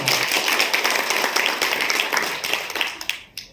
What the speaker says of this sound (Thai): ขอเสียงปรบมือให้กับคุณมา